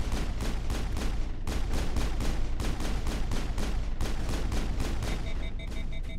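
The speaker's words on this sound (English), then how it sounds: "Who the hell is using a sniper rifle?" Sustained gunfire in the video game Mass Effect, including sniper rifle shots: dense, rapid, loud blasts fill the whole stretch with little pause, and a steady electronic tone joins near the end.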